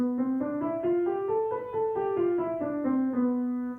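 Evenly paced notes climb a diatonic scale from B and descend again, played on one clear-toned instrument at a gentle volume.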